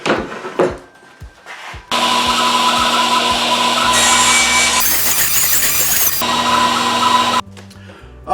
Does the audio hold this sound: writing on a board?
no